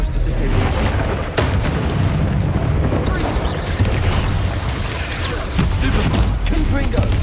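Explosive spell blasts from the Hogwarts Legacy video game, loud and dense, with repeated booms and bursts packed over constant combat din that runs steadily from start to end.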